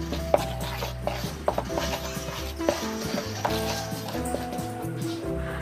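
Tapioca flour, wheat flour, bouillon powder and salt being stirred together in a bowl, a steady scraping and rubbing with a few sharper knocks of the utensil against the side, close and fairly quiet, with no talking.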